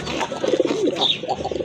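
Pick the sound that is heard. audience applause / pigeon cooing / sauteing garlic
pigeon cooing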